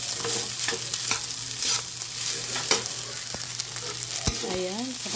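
Garlic fried rice with chicken adobo flakes being stir-fried in a pan, a steady close sizzle broken by scraping spatula strokes and occasional clanks, with no one talking.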